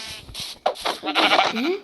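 A single wavering Minecraft goat bleat, loud and close, with a rustling thump before it.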